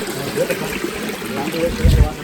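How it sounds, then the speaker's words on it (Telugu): Water trickles and flows through small streams among rock formations at Kumbajari near Adilabad, a soft steady close babbling. "ఇక్కడ మొత్తం వాటర్ అని ఫ్లో అవుతున్నాయి"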